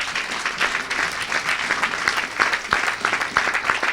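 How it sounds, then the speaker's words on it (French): A church congregation applauds loudly after an evangelist's sermon, with dense, steady clapping that continues throughout without a pause. "Est-ce qu'on peut acclamer pour la parole?"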